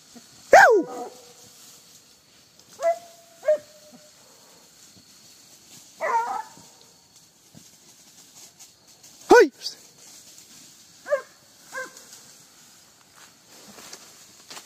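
A hunting dog on an armadillo hunt gives scattered barks and yelps at varying distances, separated by quiet stretches with faint rustling and footsteps outdoors.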